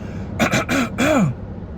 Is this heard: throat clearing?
yes